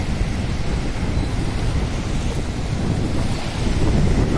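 Wind and surf roar steadily at a beach in Karimnagar, a dense, unbroken rush of moving air and breaking water with no voices over it.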